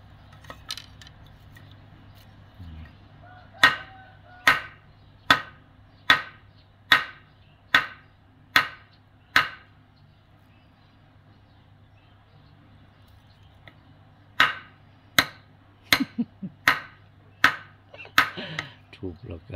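Wooden strips are pounded to soften them for weaving a catfish trap. Two bursts of sharp, evenly spaced knocks ring out, about eight each, close and loud, with a pause between them and a low hum underneath.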